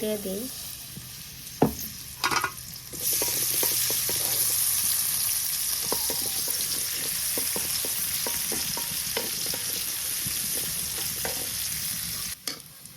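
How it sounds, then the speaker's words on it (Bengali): Chopped onion and garlic frying in hot oil for greens: a steady, bright sizzle running throughout, with a spatula scraping and stirring at close range. "এখন আমি শাক বাগার দিব পেঁয়াজ কুচি রসুন কুচি দিয়ে দিছি তেল"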